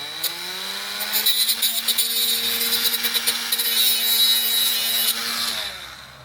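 A Citroen XM hydraulic suspension pipe being trimmed with a powered cutting tool, a loud close whining buzz with rapid rough strokes that runs for several seconds before winding down.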